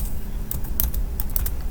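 Keys being typed on a computer keyboard while entering a web address into a browser, a quick run of clicks in uneven bursts, close and alone.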